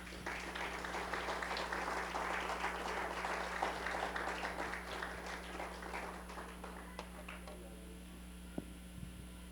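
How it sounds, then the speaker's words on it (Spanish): An audience at a sermon claps together in a dense burst that gradually thins out and fades, leaving a low electrical hum and a couple of isolated taps at the end. "denle un aplauso al Señor"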